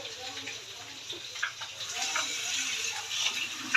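Water is poured while a home cook prepares a katla fish curry and blends ginger, giving a steady, soft splashing hiss that swells slightly toward the end, with faint background noise.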